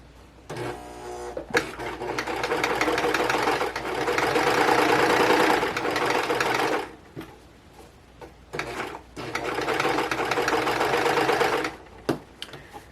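A serger sewing machine stitches fabric for a kitchen wall hanging, making two long bursts of rapid, close mechanical whirring separated by a short pause with faint handling clicks.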